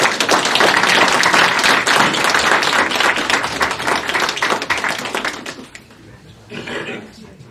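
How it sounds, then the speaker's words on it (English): A round of applause at a public meeting: loud, dense clapping for about five seconds that thins out and fades, followed by a short, softer burst of clapping near the end. "Let's have a round of"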